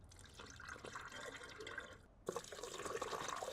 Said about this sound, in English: with the coolant refilled